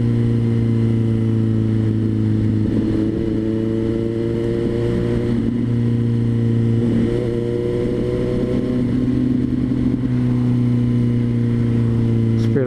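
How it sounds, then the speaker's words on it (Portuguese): Busy street traffic with cars and motorcycles passing, engines droning steadily with several rising rev sweeps, loud and close throughout, with a voice speaking over it. "Aqui agora tá cheio de veículo aqui."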